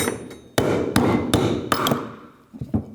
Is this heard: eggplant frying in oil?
no